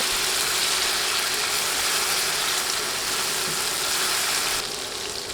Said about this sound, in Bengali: রসুন বাটাও অনবরত নেড়ে কয়েক সেকেন্ড ভেজে নিব